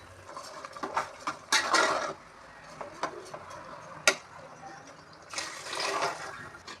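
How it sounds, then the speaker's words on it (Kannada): Water poured into a pot of soaked rice for fenugreek-leaf pulao, heard as bursts of splashing and gurgling with a few metallic clinks of utensils, close and moderately loud. "ನೋಡಿ ಫ್ರೆಂಡ್ಸ್, ನೀರೆಲ್ಲ ಹಾಕಿದ್ದೀನಿ."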